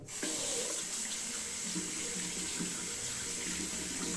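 Warm tap water runs steadily from a faucet into a sink for wetting the face and a shaving brush, a continuous close hiss with no talk.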